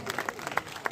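Audience clapping at a Hindi kavi sammelan poetry recital, a brief scattered burst of claps with crowd murmur, fairly faint and distant.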